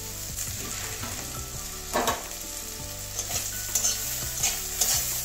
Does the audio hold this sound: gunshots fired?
no